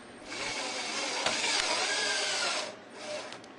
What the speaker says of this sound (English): Using screws provided, screw down the bracket into the bottom rail.